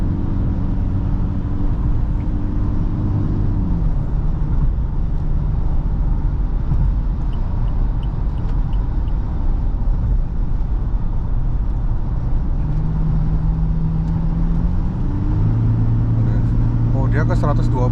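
Toyota Fortuner 2.8 GRS accelerating hard at speed, a continuous engine drone inside the cabin with the revs rising, dropping at a gear change, then climbing again along with road and wind noise.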